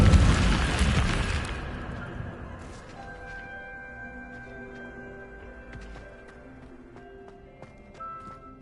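An Incendio fire spell in the Hogwarts Legacy video game bursts loudly at the start with a dense fiery whoosh, then fades over a couple of seconds into quieter ambient tones and scattered small sounds.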